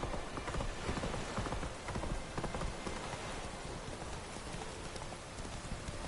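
Roach the horse trots through a Witcher 3 game world, its hooves clip-clopping in a quick, steady rhythm at moderate volume over a hiss of rain.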